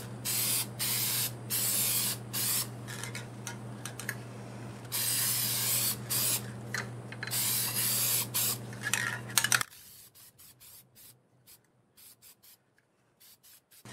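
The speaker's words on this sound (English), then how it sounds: "I plan on spraying multiple coats of lacquer on this" Lacquer finish sprayed onto a segmented ripple bowl turned from wood, a loud hissing spray in repeated bursts of a second or so for about ten seconds, then fading to quiet short puffs and a low hum.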